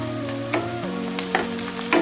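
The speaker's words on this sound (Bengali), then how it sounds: "এবার এগুলো একটু ভেজে নেব।" Two medium onions frying in a pan, giving a steady close sizzle with a few light clicks of a stirring utensil and no talk.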